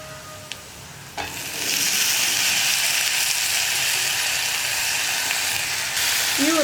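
Potato pieces dropped into spices frying in a pan for potato curry: a couple of small clicks, then a loud, steady sizzle that swells and holds close up to the end.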